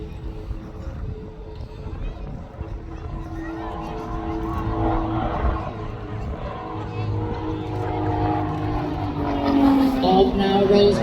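An RAF Tutor light aircraft of carbon composite build, powered by a 180 hp Lycoming piston engine, drones through an air festival display, its engine note rising and falling at a distance beneath a commentator's voice and crowd murmur.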